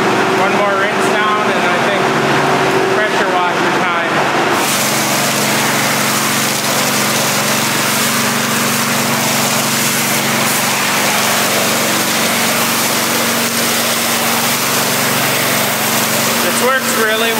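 A pressure washer rinses a vehicle in a wash bay. A low engine-like hum comes first, then a loud, continuous hissing spray takes over and holds steady to the end.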